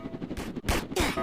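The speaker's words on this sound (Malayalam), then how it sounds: "വെടിയൊക്കെ വെക്കുന്നുണ്ടല്ലോ." Gunfire in the Roblox game Prison Escape: three loud, close bursts of shots within about a second, separated by short gaps.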